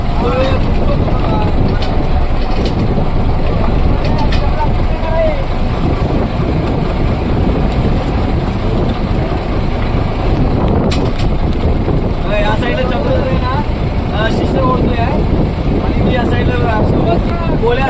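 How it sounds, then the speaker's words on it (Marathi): Strong wind buffets the microphone over a steady fishing boat engine drone in deep sea, continuous and loud, with faint voices underneath. "वारा पण जास्त आलेला आहे"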